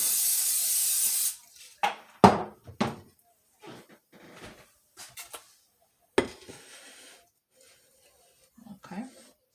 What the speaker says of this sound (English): Now I'm going to spray my pan with a little of this.